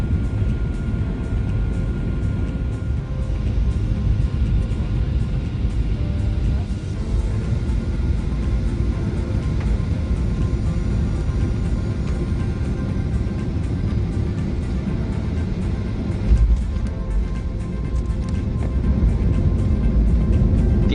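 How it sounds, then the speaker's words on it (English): Cabin of a Qantas Boeing 737-800 descending toward Sydney, a loud, steady engine and airflow roar that continues without a break, with a brief bump near the end. "QF 841 descends below cloud level and makes a few turns over the north of Sydney to line up with the approach to runway 16 right"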